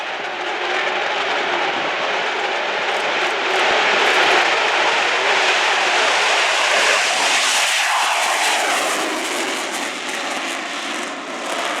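A Eurofighter Typhoon with two Eurojet EJ200 turbofans rolls for takeoff, a loud, sustained jet roar and rumble that swells slightly midway and holds steady, close and unbroken, with no voices.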